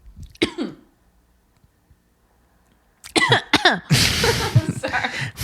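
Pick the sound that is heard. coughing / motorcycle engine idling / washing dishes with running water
coughing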